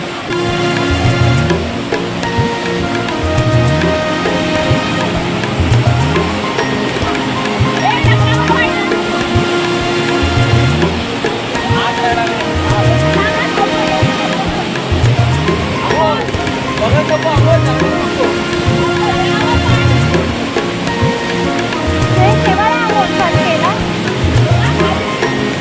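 Asaniye waterfall in the Konkan near Sawantwadi, a loud continuous roar of rushing water filling the whole stretch, with steady broadband noise.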